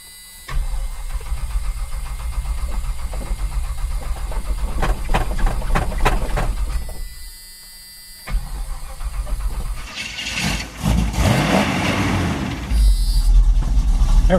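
A 1967 Triumph Spitfire engine pulled from a junkyard cranks and fires on a cold start, then settles into a loud, slightly rough idle, with a brief pause and revving near the end.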